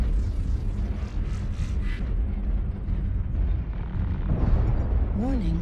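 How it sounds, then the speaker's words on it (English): Missile impacts in the MechWarrior Online combat game land as heavy booming blasts over a dense rumbling battle din, followed by a brief rising electronic warning tone near the end. "Warning, incoming missile."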